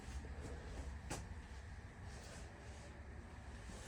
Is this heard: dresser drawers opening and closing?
yes